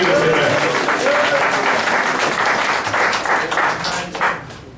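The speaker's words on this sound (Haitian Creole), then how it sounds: "On va applaudir le Seigneur." A church congregation bursts into loud, dense applause, many hands clapping together nearby in a sustained wash that swells and then tapers off, with a few voices mixed in underneath.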